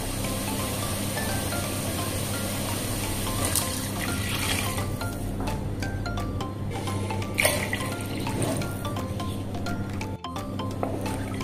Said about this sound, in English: And now into this, I'll be adding 6 glasses of water.